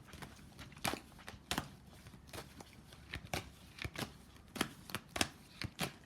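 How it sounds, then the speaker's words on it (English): Tarot cards being shuffled by hand, a series of crisp riffling bursts and soft taps in an uneven rhythm, close and fairly quiet, with no talking. "Let me shuffle the cards, split them."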